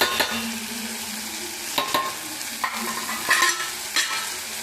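Guguni ingredients frying in a pan, a steady sizzle broken by several scraping strokes of a spatula stirring the mixture, close and loud with no talk.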